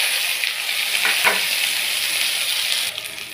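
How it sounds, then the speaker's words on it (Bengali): Chopped onion hisses in hot oil in a pan for a vegetable dish, a dense, loud, continuous sizzle with a couple of soft stirring scrapes and no voices. "পেঁয়াজটা আমি একটু ভাজা ভাজা করে নেব"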